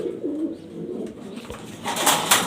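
Jorna satin pigeons cooing in low, rolling calls, close by, with a brighter burst of fluttering or scuffling toward the end.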